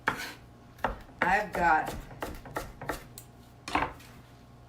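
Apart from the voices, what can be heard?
knife chopping an onion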